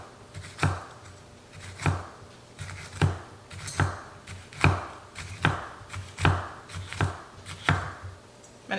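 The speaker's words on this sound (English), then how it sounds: "I'm trying to get these jalapenos as thin as possible." A knife slicing jalapenos into thin rounds on a cutting board, about a dozen evenly spaced sharp chops in a steady rhythm, close and clear with no talking.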